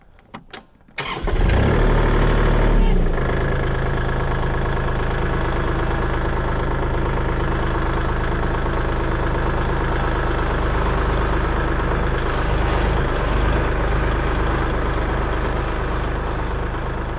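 After a few quiet clunks, a tractor engine cranks and catches, then settles into a loud, steady diesel idle that rumbles on to the end.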